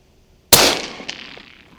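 An air rifle fires once at Egyptian geese about 390 meters away. A single sharp, loud crack decays over a second, with a faint second knock soon after. No one speaks.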